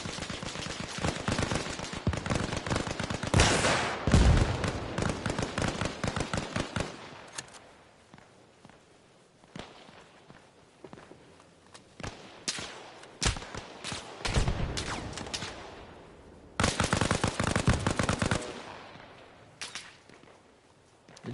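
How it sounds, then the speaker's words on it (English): Bursts of rapid automatic gunfire and single shots from a military video game firefight with armored vehicles in a town, loud and dense in two heavy stretches with sparser cracks between, no talk. "Shots hard right, shots hard right."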